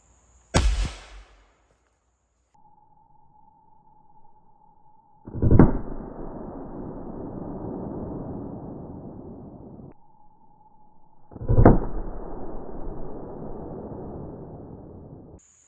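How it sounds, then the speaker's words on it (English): An AEA Harpoon double-barrel air pistol fires two shots, one from each barrel, each a sharp close crack followed by a long sustained rush, with a faint tone between them and a brief click at the start. "I'm going to shoot one out of the short barrel and one out of the long barrel"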